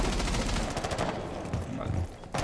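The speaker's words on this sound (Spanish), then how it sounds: "Estaba disparando ahora, no voy a moverme" Gunfire in Rainbow Six Siege, a dense, loud burst of rapid shots and impacts that tapers off near the end.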